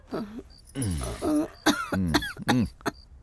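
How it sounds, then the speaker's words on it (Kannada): Several harsh, bursty coughs come in quick clusters, loud and close, with a throat-clearing quality between them. "ಕೆಮ್ಮು ಜಾಸ್ತಿ ಆಗಿದೆ"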